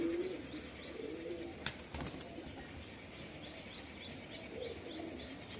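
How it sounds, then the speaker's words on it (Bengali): A male pigeon coos softly near its coop, giving repeated low murmuring calls. A short burst of flapping wings breaks in partway through, and the whole scene is quiet and faint. "এই যে কবুতরটা দেখো, নর কবুতর"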